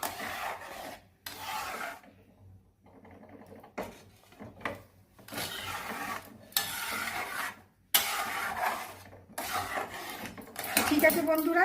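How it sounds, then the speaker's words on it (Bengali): Salt being stirred into homemade tomato sauce with vinegar in a pot, heard as close, rasping scrapes in uneven bursts with short pauses between strokes, with no talking over them. "নুনটা নাড়িয়ে চাড়িয়ে ভালো করে গলিয়ে নিচ্ছি"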